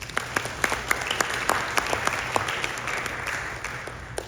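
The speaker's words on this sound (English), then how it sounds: "give yourself a round of applause" Audience applause fills a conference hall during an educational session on maternal health, steady dense clapping with scattered sharper claps throughout, fairly close and sustained for several seconds.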